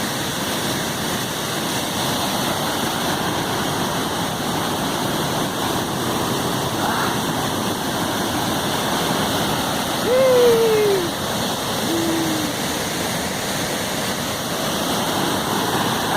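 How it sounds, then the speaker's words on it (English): The Gudbrandsjuvet waterfall in Norway sends up a steady, loud, broadband roar of rushing water, heard close and continuous throughout, with a few faint tonal calls rising briefly above it. "Another beastie of a waterfall."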